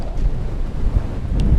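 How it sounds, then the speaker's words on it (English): A strong wind gust of about 30 knots blows aboard a sailboat as a hurricane approaches, roaring loudly and steadily across the microphone. "that's a bit of a gust, not too bad, maybe 30"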